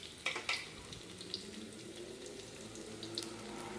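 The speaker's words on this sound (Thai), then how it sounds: "เราใส่น้ํามันพืชลงไปแล้วนะคะจากนั้นนะคะเราก็ใส่กระเทียมสับลงไปเลยค่ะ" Minced garlic sizzles in hot vegetable oil in a pan, a steady hissing fry with a couple of brief spattering pops near the start, close and moderately quiet with no talk.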